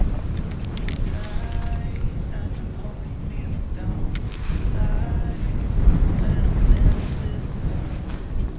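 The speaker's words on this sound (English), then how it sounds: "It's quite windy." Wind buffeting a microphone outdoors beside a car used as a bird-watching hide, a continuous low rumbling roar that swells and gusts, moderately loud and heard alone.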